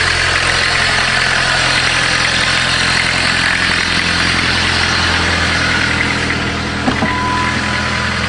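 A diesel engine installed in a caravan idles steadily, a loud, close, low rumbling drone with constant vibration and no talk over it.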